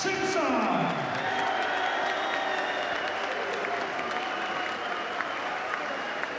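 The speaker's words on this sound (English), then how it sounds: "As John Simpson takes his well-earned applause here tonight" A boxing crowd applauds John Simpson after the decision in his fight against Dazzo Williams: loud, continuous clapping with scattered cheers and whoops, a commentator's voice running over the noise throughout.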